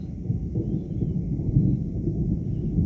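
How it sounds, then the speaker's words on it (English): Low, rolling rumble of distant thunder from an approaching storm, a continuous deep growl swelling and fading slightly, with no voices present. "we have another storm rolling in"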